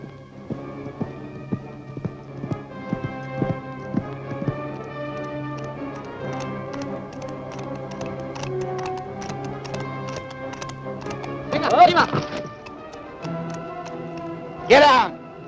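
Horse hooves clip-clop in a steady rhythm of sharp, evenly spaced knocks at a moderate distance, with a brief louder burst of scuffling near the end.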